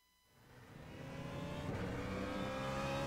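The GSRC BMW Z4 race car starts a lap of Circuit of the Americas in a Kamel GT Championship sim race, its engine climbing from quiet into a sustained, steadily rising roar as it accelerates.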